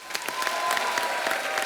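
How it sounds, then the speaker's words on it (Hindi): A studio audience at a Hindi comedy show breaks into loud, sustained applause, dense crackling claps holding steady throughout without any talking over them. "आप सबकी जोरदार तालियों के बीच प्लीज वेलकम"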